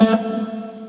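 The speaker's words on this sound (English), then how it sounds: "If you pick towards the neck," A single electric guitar note picked towards the neck rings out with a warm harmonic tone, struck sharply and then sustaining and slowly fading, with a fresh pick attack at the very end.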